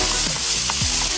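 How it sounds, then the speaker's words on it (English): Steak searing in a hot pan in a restaurant chef's kitchen, a loud steady sizzle with a few stirring scrapes, heard alone with no talking. "Even the sizzle sounds delicious."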